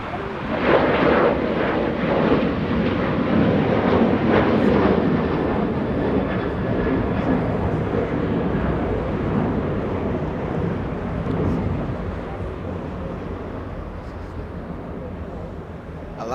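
An Alaska Airlines Boeing 737-900 jet bound for Buchanan, Washington rumbles steadily at Los Angeles International Airport, a broad loud engine roar that fades slightly over time, with people talking over it.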